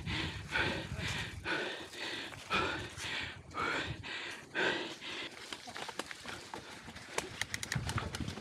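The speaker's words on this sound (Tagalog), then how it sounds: "Hingal na hingal eh." Heavy, rapid panting after heart rate training, a series of loud gasping breaths about once a second, close to the microphone with no talking.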